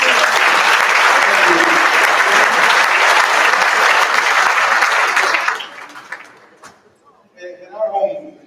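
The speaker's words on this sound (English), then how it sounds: "Big round of applause again." Loud, sustained applause from an audience at an awards event fills the first five and a half seconds, then fades away, and quieter sounds follow.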